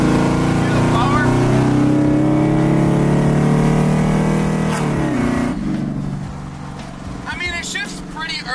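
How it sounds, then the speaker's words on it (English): Car engine fitted with a supercharger revs and accelerates hard, a loud droning roar with a rising blower whine that fades into lighter running as a voice talks over the end. "Hear the blower?"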